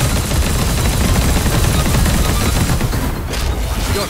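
Dense, sustained gunfire fills a combat sequence in the action game Punishing Gray Raven, a loud continuous fusillade of rapid shots that barely lets up over the whole stretch.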